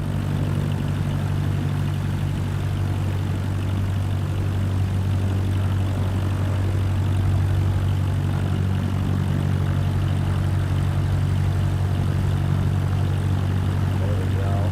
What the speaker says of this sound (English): The next challenge will be to keep the aircraft under control while at full throttle for takeoff.